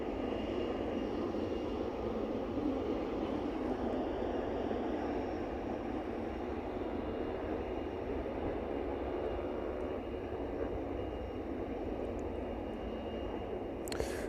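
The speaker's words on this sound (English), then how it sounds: "One 777 outbound then, and one inbound." A Boeing 777 at East Midlands Airport, its engines a steady, loud broadband roar that holds evenly for the whole stretch with no pauses and no voices.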